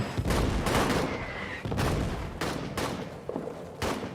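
Gunfire and artillery in the World War I trench shooter Casualties of War: a loud, close barrage of overlapping shots and heavy booming blasts, nearly continuous over a few seconds.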